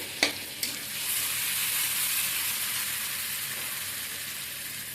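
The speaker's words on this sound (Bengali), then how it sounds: "খাসির চর্বি দিয়ে আমি ভালো মতন কষিয়ে নিলাম" Food sautéed in goat fat in a pan sizzles quietly and steadily, opening with two sharp clinks from a utensil before the frying hiss swells and holds; no speech is heard.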